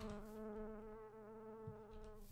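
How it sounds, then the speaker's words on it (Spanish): Wasps buzzing in a video game, a steady nasal insect drone close by, faint and continuous for a couple of seconds with no talk. "Se escuchan avispillas."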